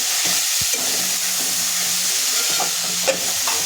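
Washed moong dal being sautéed with tinda in a pan gives a close, steady sizzle, with a spoon scraping and stirring in short strokes and no voices.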